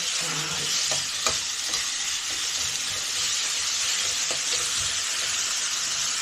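Food for ghugni frying in a pan, a continuous close sizzle and hiss with occasional stirring clicks, steady throughout with no talk.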